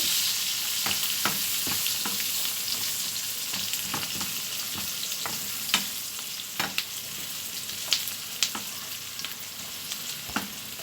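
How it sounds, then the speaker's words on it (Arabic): Onions fry in oil for koshari, sizzling evenly as a spoon stirs and taps the pan in scattered, sharp knocks over a continuous hiss, close and moderately loud with no voices. "نقلب كده ندي تقليبه للبصل"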